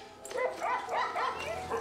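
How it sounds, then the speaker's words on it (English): Dogs in a comedy horror film giving a few short yapping barks and whimpers, moderately close under a quiet soundtrack. "The dogs are acting strange."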